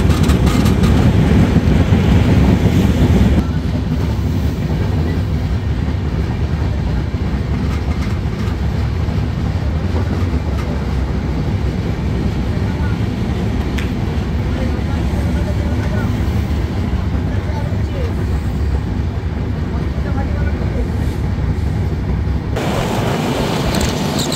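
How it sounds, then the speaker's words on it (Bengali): The Madhumati Express, number 756, rolls into Mawa station, heard from on board as a loud, continuous rumble with wheel rattle that eases slightly after the first few seconds and then holds steady to the end. "ট্রেন প্রবেশ করছে মাওয়া স্টেশন"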